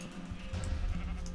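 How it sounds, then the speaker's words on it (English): Sheep bleat in the Minecraft video game, several wavering bleats over a steady background with no talking. "I'll try and get these sheep back in their pen"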